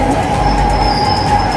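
A metro train arrives at a station in Milan, a loud, close steady rumble with a sustained metallic whine of the wheels over the rails and no talk.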